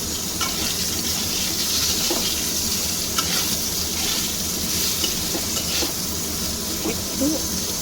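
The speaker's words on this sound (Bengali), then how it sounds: "একটু আলুটা ভাজবো, তেলের মধ্যে একটু নেড়ে চেড়ে নেব।" Potato pieces frying in hot oil in a home kitchen, a steady soft sizzle with occasional scraping and clinks as they are stirred, fairly quiet and continuous.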